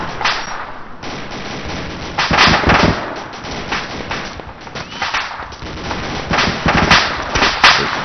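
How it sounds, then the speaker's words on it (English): Sustained gunfire from enemy AI soldiers in the military shooter ARMA 2, a dense run of rapid shots and bursts with louder volleys near the middle and end, close and continuous with no talking. "Getting some effective fire now."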